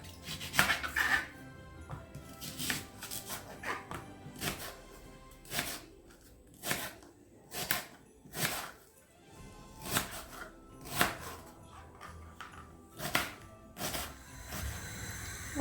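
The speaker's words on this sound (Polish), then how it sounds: "Teraz kroję 2 cebule w kostkę." Two onions diced with a knife on a board, a run of sharp, irregular chopping knocks at close range, some in quick clusters and others spaced apart, over a quiet background.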